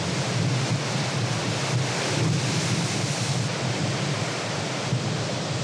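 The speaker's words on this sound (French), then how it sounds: "Vagues, déferlantes monstrueuses ou mortelles, Dominique maîtrise le langage et les colères de la mer." Atlantic ocean waves break on rocks in steady, roaring surf, with gusting wind buffeting the microphone and no voices.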